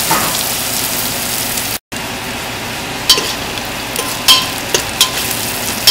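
Onions being stirred as they fry in a pan for spicy egg biryani: a steady, close sizzle with scattered clicks and scrapes of the spoon.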